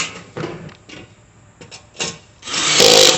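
Tools tightening bolts on a Char-broil Performance Series four-burner gas grill during assembly, scattered clicks and short scrapes, then a louder sustained whirring burst near the end, close by.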